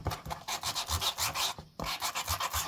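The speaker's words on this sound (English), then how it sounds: "I just have a little bit of sandpaper on this." A small piece of sandpaper is rubbed along the edge of a handmade winter journal cover in quick back-and-forth strokes. The rasping is close, rhythmic and steady, with one brief pause partway through.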